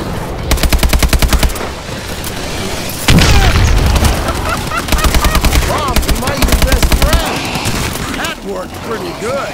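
A bomb explodes in the Call of Duty Advanced Warfare Exo Zombies video game: a loud, heavy blast lands amid steady bursts of rapid machine-gun fire, with voices speaking at points.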